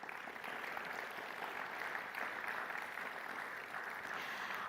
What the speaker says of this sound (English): Please join me with a warm round of applause once again to congratulate them to where they are today.